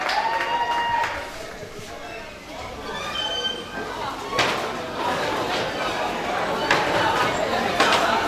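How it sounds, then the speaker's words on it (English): Audience applause fills a youth leadership academy session, with scattered clapping and crowd chatter mixed with voices, fairly close and moderately loud throughout. "A round of applause for yourself."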